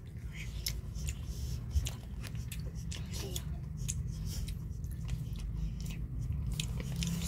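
Someone bites and chews chocolate cookies close to the microphone, giving a run of small crunchy clicks over a low background hum.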